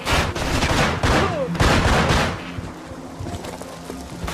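Burst of gunfire from a firing squad in the Manhunt video game, a dense fusillade of overlapping shots through the first half, then quieter scattered reports and rumble.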